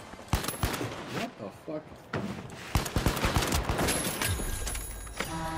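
Gunfire from the Pike-556 in the video game The Finals: a few sharp shots and bursts of fire among impacts and clatter, close and loud, with players talking over the action.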